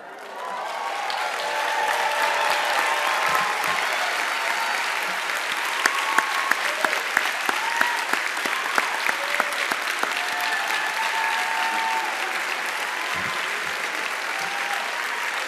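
A large audience at the 2019 Ford School of Public Policy commencement claps steadily for fifteen seconds, a dense, sustained wash of many hands with scattered sharper claps.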